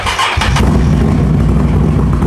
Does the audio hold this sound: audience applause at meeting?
no